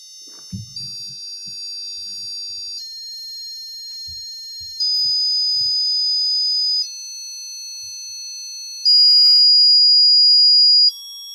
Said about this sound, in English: And what you're going to hear is 100 hertz.